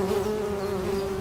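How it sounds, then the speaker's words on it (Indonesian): Bees swarm at a beehive full of honey, a loud, steady droning buzz with a clear sustained tone, close and continuous without any voices. "Ini sarang lebah. Di dalamnya ada banyak madu."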